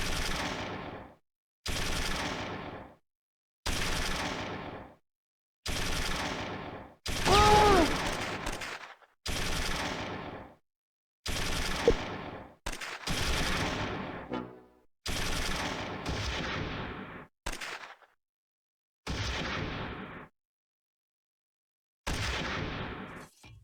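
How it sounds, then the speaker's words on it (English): Small arms fire crackles in the Close Combat 3 wargame during a battle at the Kremlin, a string of a dozen separate loud bursts of rifle and machine-gun shots, each cut off sharply with short silences between. "Small arms fire rings out."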